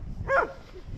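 A single short, sharp bark from a dog rings out close by against low background rumble.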